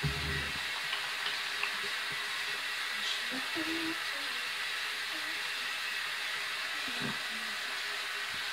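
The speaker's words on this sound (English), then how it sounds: "Always wash your hands when you get ready for eating." Tap water runs steadily into a sink while hands are washed, a continuous close wash with brief clatters near the start and around seven seconds, with no speech over it.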